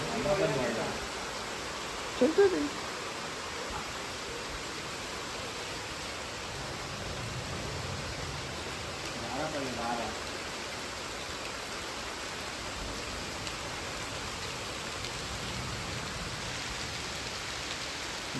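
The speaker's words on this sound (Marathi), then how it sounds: "पाऊस पडतोय जोरात." Heavy rain pours steadily in a Konkan village, a dense even hiss of water on surfaces throughout, with a few faint bumps and a low voice barely heard beneath it.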